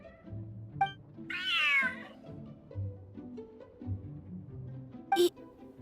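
A cat meows in Genshin Impact, one drawn-out bright meow followed by a short sharper call later, set against soft background music with scattered clicks.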